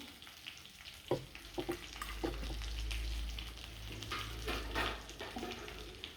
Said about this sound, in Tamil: வெங்காயம் இந்த எண்ணெயில் நல்லா வேகணும்